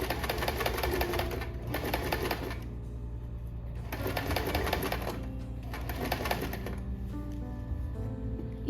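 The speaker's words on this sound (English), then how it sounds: "And now I'll continue sewing to the bottom." A sewing machine stitches an invisible zipper in rapid bursts of rhythmic mechanical chatter. Two runs are separated by short pauses, over a constant motor hum, close up.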